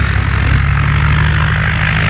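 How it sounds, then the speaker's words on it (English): A 1957 Cessna 172 propeller airplane drones loudly and steadily nearby, its engine hum and prop buzz continuous throughout with no voices. "It's a 1957 Cessna 172."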